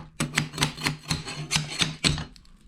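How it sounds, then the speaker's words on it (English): Sharp snapping and crackling pops as a composite trailer floor pries loose from waxed glass, about nine crisp, close cracks in quick, uneven succession, then fading to quiet. "Starts making some snap, crackle, pop noises."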